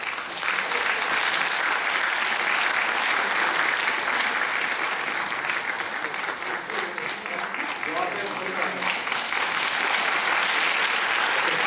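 A seated conference audience claps steadily for a group photo, continuous close applause throughout, with a few voices talking faintly underneath toward the end.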